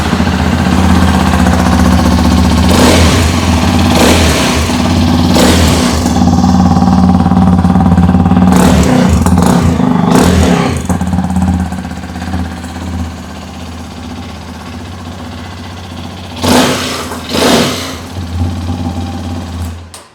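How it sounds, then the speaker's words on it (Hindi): A Hero Xpulse 210 motorcycle idles with a steady single-cylinder thrum, broken by several sharp throttle blips and revs rising and falling, loud and close with no speech. "आइए अभी सुन लेते हैं इस बाइक की एग्जॉस्ट नोट।"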